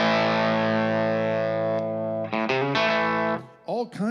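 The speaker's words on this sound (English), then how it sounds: "I can add the second voice into these pickups and it sounds like this" An electric guitar with a second voice added to its pickups produces a thick, effects-laden tone, one long ringing chord that sustains and fades, then a few short stabs and bends.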